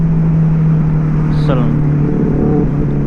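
A Benelli 600i motorcycle with an aftermarket Ixil L55 exhaust drones steadily and loudly while riding at night, with a brief rise in pitch midway. Someone speaks over the engine.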